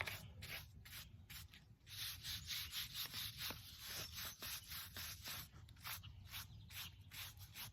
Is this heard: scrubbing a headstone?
yes